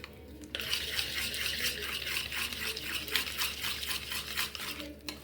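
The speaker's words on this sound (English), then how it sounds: "we'll be using the manual whisk. So I will whisk it till it becomes pale yellow." Cake batter whisked by hand in a bowl: quick, regular scraping strokes, about three per second, continue steadily and close up after a brief quiet start, with no talk.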